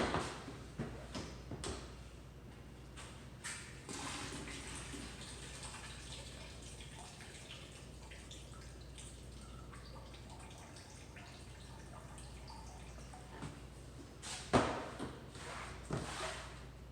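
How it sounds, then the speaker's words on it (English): Excess water drains out of a planted sunflower microgreens tray, with scattered drips and splashes and a few louder splashes near the end over a low steady background. "I got all this excess tray water drained out."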